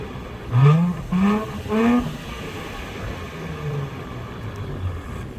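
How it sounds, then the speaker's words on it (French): A stationary Nissan 400Z gets three short blips of throttle, each rising and falling revs close by, followed by a lower, steady idle with smaller wavering rises. "Est-ce que tu peux me mettre 2-3 petits coups de gaz à l'arrêt?"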